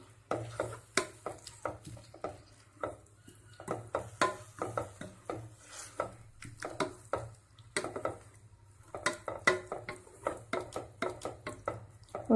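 Boiling jaggery syrup stirred in a pan for carrot coconut ladoo, a steady run of close scraping and clinking strokes against the metal, uneven in rhythm, with no talking.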